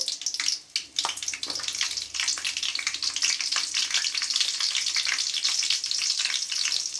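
Steady hot-oil sizzle as tempering spices and green chillies fry for a tomato fenugreek curry, with occasional crackles and pops throughout, close and continuous with no talking.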